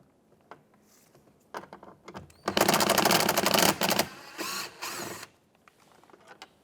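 Bolt being removed from a 2009-2014 Ford F-150 door panel: scattered clicks lead into a loud, dense run of rapid ratcheting lasting about a second and a half, then shorter bursts and faint mechanical handling sounds nearby.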